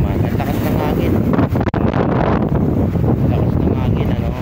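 Strong seaside wind on Manila Bay roars steadily into the microphone, a dense buffeting rush with a brief dip partway, loud and unbroken.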